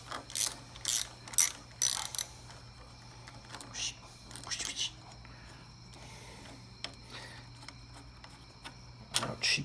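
A bolt spun out by hand from a Kawasaki Ninja 250R lever mount during a brake and clutch lever swap gives a series of quick ratcheting clicks, close and fairly quiet, fading into sparse taps.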